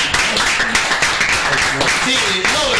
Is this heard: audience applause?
yes